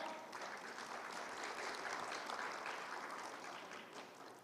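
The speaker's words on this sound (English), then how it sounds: "Like I just made you clap." A conference audience of marketing executives in Kolkata breaks into a continuous wash of clapping, many hands together at an even, fairly distant and subdued level that tapers a little at the close.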